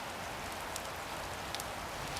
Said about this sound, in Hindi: कुछ दिन बाद काफी बारिश होने लगी